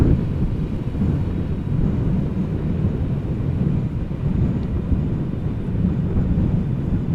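An airliner lands in a strong crosswind at Amsterdam Schiphol and deploys thrust reversers, a heavy low rumbling roar that holds steady and loud, mixed with wind buffeting, with no voices.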